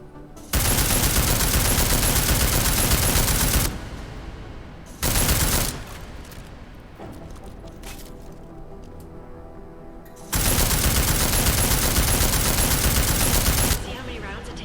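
Sustained, dense bursts of automatic gunfire in Deus Ex: Mankind Divided, aimed at an armored target: a long loud burst, a short burst, then quieter background sounds before another long loud burst.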